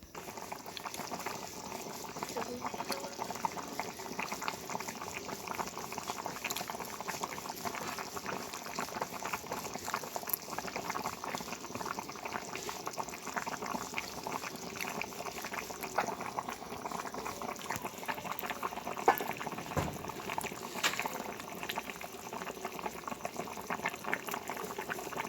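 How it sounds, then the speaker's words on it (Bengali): Potato curry with green chillies bubbling in a covered pot, a continuous soft boil with small popping bubbles, close but quiet, with no voices. "আলুর তরকারিটা ফুটছে।"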